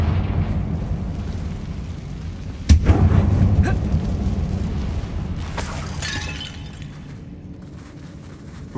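Confringo blasting spell in Hogwarts Legacy, a sharp, loud explosive crack followed by a rumbling burst, then a second shattering blast with crackling debris fading out over low background ambience.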